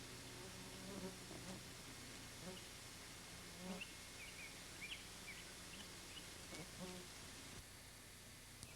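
Black flies buzzing in the eastern woods during a bear-baiting hunt, a faint steady insect drone with a few scattered chirps and soft sounds over a low background hum.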